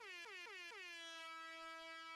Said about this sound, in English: Easy on the air horn?